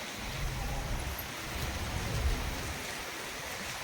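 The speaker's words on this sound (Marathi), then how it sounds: "आता हलका हलका पाऊस पडतोय ना" Steady, soft rainfall with an even hiss throughout, no voices, a continuous wash of drops at a constant level.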